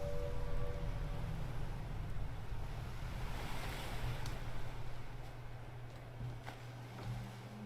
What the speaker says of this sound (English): I love the way the waves wash up on shore here